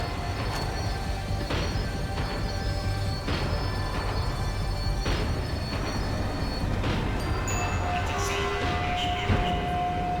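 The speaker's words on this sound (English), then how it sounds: "The tram was slowing down, and I'd only just gotten on board." In Max Payne 3, a tram slows down with loud metallic wheel squeal and rumbling rail clatter, a rhythmic series of clanks over a constant heavy drone, heard close from on board.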